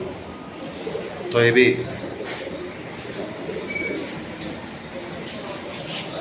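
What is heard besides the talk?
pigeons and doves cooing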